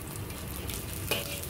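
Oil sizzling in a wok during stir frying, a wok previously used to fry minced fish; a steady close frying hiss runs throughout with a brief sharper crackle near the end.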